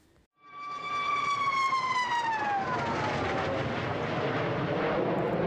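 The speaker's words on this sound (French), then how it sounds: "le bruit que peut faire le Sukhoi 57, qui est assez impressionnant, cette espèce de sifflement" A Sukhoi Su-57 fighter jet whistling from its air intakes, a loud rising tonal whine that slides downward and then gives way to a broad, roaring rush that holds steady to the end.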